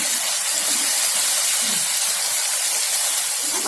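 Jackfruit biryani ingredients frying in a pan give off a steady, loud hiss and sizzle that runs unbroken for the whole stretch, with no voices.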